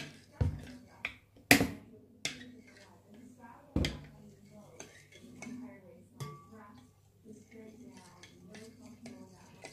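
Flour being mixed in a bowl for Swedish saffron bread (lussekatt) in a home kitchen, heard as scattered close clinks, taps and scrapes of utensil on bowl with soft movement between them and faint voice murmurs.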